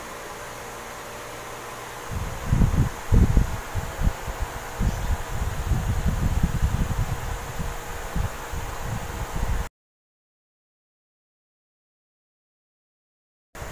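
An electric fan runs with a steady whooshing hum and some fluttering rumble, close and constant, then the sound cuts off abruptly to silence.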